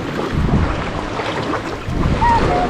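Waves wash steadily at Sual beach in Pangasinan, a loud continuous surf roar mixed with heavy wind buffeting close to the microphone.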